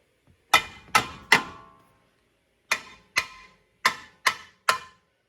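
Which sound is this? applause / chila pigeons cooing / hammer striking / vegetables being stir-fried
hammer striking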